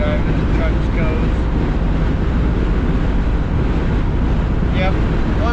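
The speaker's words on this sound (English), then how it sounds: "It's really windy, so the wind's beating our butts up today" Strong wind buffets the microphone while driving trucks on a long haul with a 1968 Chevy C10, producing a steady, loud, unbroken rumbling roar throughout.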